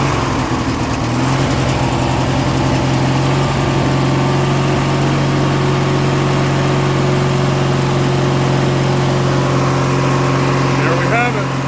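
A 1997 MTD Yard Machines 42-inch riding lawn mower engine starts and settles into a steady, loud running drone close by, holding an even idle throughout.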